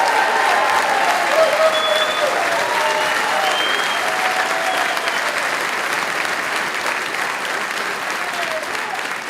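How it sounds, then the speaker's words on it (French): Sustained applause from a theatre audience at a political campaign rally in Dreux, steady dense clapping that fills the room and keeps going without a break. "Merci d'applaudir"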